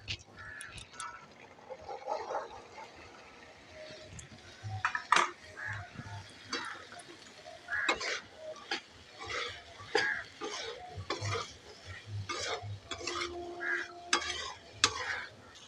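Chickpeas cook with spice masala in a pan over low flame for chola chaat, with quiet intermittent spatula scrapes and clinks over a soft, uneven sizzle.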